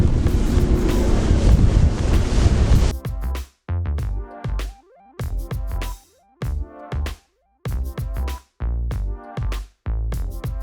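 A speedboat engine roars with rushing wind for a few seconds off the coast of Croatia, then gives way to choppy, intermittent thumps and splashes as the hull slaps over waves.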